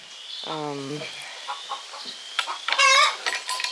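A hen squawks loudly and repeatedly at close range, with harsh clucking cries in short bursts.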